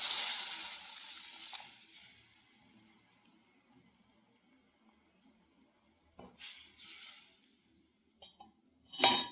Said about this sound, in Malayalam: നമുക്ക് പുളിവെള്ളം ഒഴിച്ചു കൊടുക്കാം